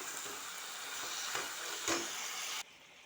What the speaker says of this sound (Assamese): এতিয়া চিকেনখিনি ফ্ৰাই কৰি আছোঁ। এয়া চাই লওক, এনেকৈ মই ফ্ৰাই কৰি আছোঁ চিকেনখিনি গেছৰ জুইত।